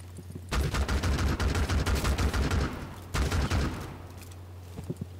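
Rapid automatic gunfire in the video game Rainbow Six Siege rattles in two long close bursts, the first sustained for over two seconds and the second shorter, trailing off into quieter scattered sounds.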